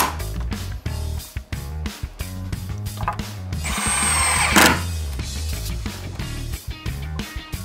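A power drill drives screws through a metal electrical box into a wooden stud during bathroom rough electrical work. It gives short whirring bursts with rattles and clicks between them, close by, and one longer, louder run in the middle.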